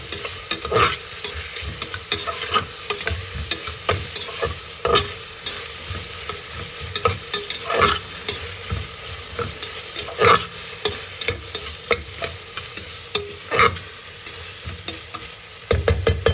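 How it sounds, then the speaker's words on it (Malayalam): Capsicum and curry leaves with softened onion fry in a hot pan as they are stirred. A steady, loud sizzle carries on throughout, broken by regular scrapes of the spoon, with no voices. "ക്യാപ്സിക്കം കറി ലീഫ് ചേർക്കുക അത് നന്നായിട്ട് മിക്സ് ചെയ്ത് ചെറുതായി വാടുന്നത് വരെ ഇളക്കുക"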